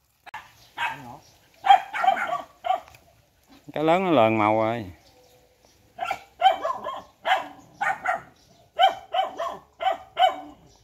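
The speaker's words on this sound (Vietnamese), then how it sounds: "Mấy chó sủa quá." Dogs bark near a fishing outing, with short bursts and a drawn-out whining yelp mixed among people chatting nearby.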